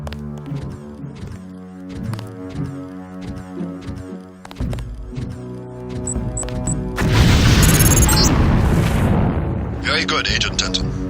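A lamp explosive detonating in the video game Deus Ex: rhythmic music and game sounds give way to a loud, sustained booming blast with crackling debris that fills the second half.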